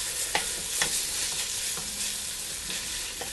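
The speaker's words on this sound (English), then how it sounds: "So I'm going to add my artichoke hearts and then cook these for maybe 5 more minutes just to finish caramelizing those" Onions and artichoke hearts fry and caramelize in a pan, giving a steady, close sizzle broken by a few sharp spatula scrapes, with no talking.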